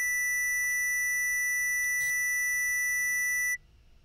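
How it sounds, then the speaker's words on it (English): A Behringer Neutron synthesizer filter at maximum resonance self-oscillates into a clipping, square-like tone, steady and bright for about three and a half seconds before it cuts off abruptly. "the waveform is clipping, so it's technically not a sine wave, it's a square wave"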